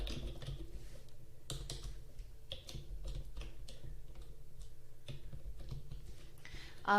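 Typing on a computer keyboard while writing a text summary, a close, continuous patter of irregular key clicks with a few louder taps, over a faint steady hum and with no talking.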